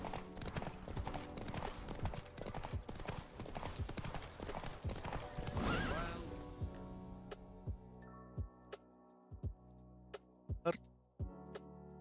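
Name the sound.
horse galloping in a race, from The Witcher video game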